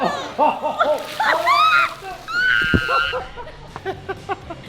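Water from a pond pump jet splashing and spattering down outdoors, continuous sloshing under excited voices, laughter and high-pitched shouting from several people.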